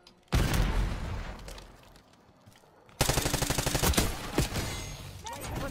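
Rapid automatic gunfire from the Black Ops 6 video game on the Holiday Nuketown map: a loud burst of rattling shots, then a lull with quieter action, then a second sustained volley with sharp individual cracks.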